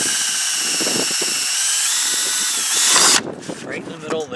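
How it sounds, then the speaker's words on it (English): Power drill with a 3/16 bit boring into an RV roof vent on a 1998 Bounder motor home, a loud steady whine for about three seconds that then stops, followed by handling noises and brief talk. "Okay, now we're going to drill those out"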